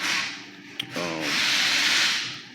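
A Power Torque sander with a 3-inch hard pad rubs against a car headlight lens, a hissing abrasive whir that dips briefly then swells back, close and alone.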